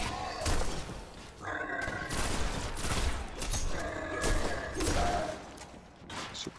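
Gunfire from the video game Destiny, with rapid bursts and thumping shots in several clusters over dense game audio, loud and continuous, with a player's voice in the background.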